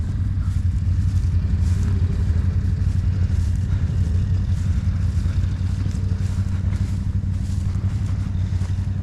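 A motorbike engine idles steadily during a muddy trail ride, a close, loud and even rumble that holds without change throughout.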